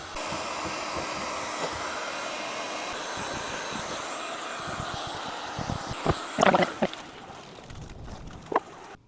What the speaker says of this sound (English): let me get the heat gun out and see if I can get that green paint off